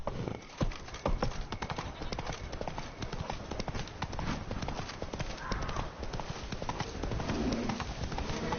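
A horse gallops in the video game The Witcher 3, with rapid, steady hoofbeats pounding close by and continuing throughout, plus a snort or whinny and faint game ambience, with no speech.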